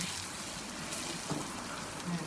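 Curry paste stir-frying in oil for a Burmese-style pork curry makes a faint, steady sizzle close by, with light stirring scrapes and brief clatters now and then.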